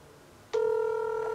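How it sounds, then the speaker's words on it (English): A steady electronic telephone tone begins abruptly and holds, a clear sustained ringback-style beep with no talking. "It's ringing."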